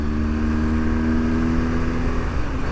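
A steady motorcycle engine drone at constant revs, loud and close, in the rain, with a low rumbling hum throughout and no voices.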